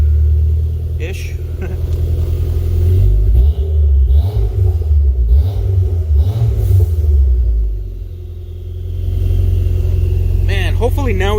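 Toyota MR2 engine running on a dyno, a loud, deep rumble that swells and eases as revs change, with a brief dip before picking back up, heard close and dominating the space.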